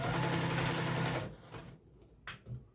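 A sewing machine backstitches an apron seam in a quick, close burst of rhythmic whirring that stops after about a second, followed by faint handling clicks and rustles.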